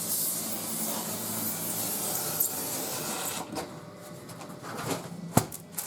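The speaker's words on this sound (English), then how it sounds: "probably the best way to cut it is with a knife." A knife scoring and cutting foam insulation board for a camper van, a steady scratchy rasping that runs continuously, then breaks into a few short, sharper scrapes toward the end.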